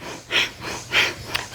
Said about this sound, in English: Let's just make sure we're breathing fully